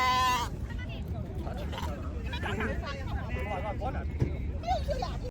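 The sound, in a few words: lambs bleating as they rush toward milk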